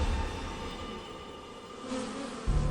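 Honey bees buzz at the hive in a continuous, dense drone that stays steady throughout, with no voices.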